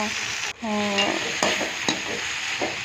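Mint leaves frying and being stirred in a pan for chutney, giving a steady close sizzle with a sharp scrape or clatter at the start and a few utensil knocks.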